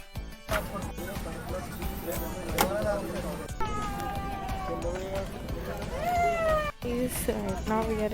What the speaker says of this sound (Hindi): छोटे छोटे बच्चे को लेकर आए इसलिए वो रो रहे हैं प्लेन में आके